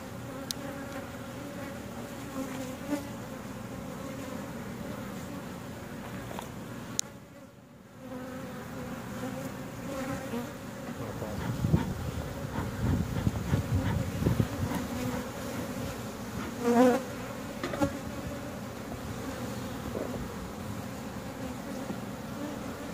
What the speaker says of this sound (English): Definitely quite a few bees.